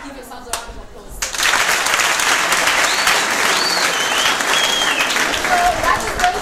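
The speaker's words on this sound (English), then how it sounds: "I would also love for you guys to give yourselves a round of applause." High-school students at Etwatwa High School give themselves a round of applause, a loud, sustained burst of crowd clapping that starts abruptly after a faint lead-in and continues steadily to the end.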